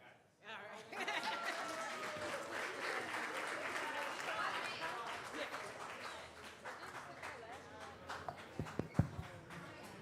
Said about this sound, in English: Let's give a round of applause to these young men and women for their achievement